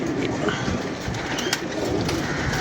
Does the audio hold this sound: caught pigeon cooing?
yes